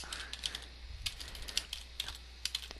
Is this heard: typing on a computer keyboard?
yes